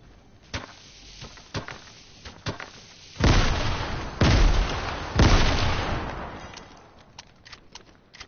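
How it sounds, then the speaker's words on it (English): Grenade explosions in a video game: three heavy booms in close succession, each with a rumbling tail, preceded by scattered sharp gunshots and clicks. "I'm throwing some nades."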